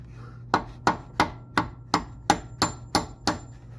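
Ten sharp, evenly spaced hammer blows drive a rear main seal into place on a BMW E46 engine in a steady rhythm, each ringing briefly, close and loud with no voices.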